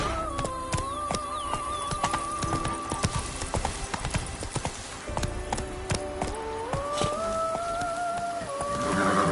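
Horse galloping in The Witcher 3: Blood and Wine, with rapid rhythmic hoofbeats clopping continuously under game music, close and fairly loud.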